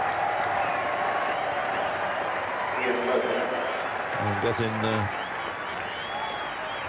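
A bank holiday crowd at a 1984 England versus Sri Lanka cricket test applauds Ian Botham coming out to bat, with steady distant clapping throughout and a commentator talking over it.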